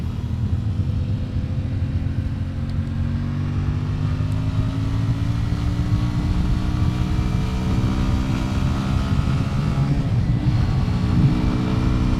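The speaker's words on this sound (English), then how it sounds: "Can get out of the way of this tractor." A tractor engine rumbles steadily and loudly nearby, a low chugging drone that holds for the whole stretch with slight shifts in pitch.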